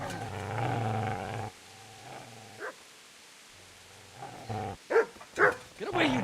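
A dog in Kingdom Come: Deliverance growls steadily up close, then falls quiet before a few sharp barks and snarls near the end.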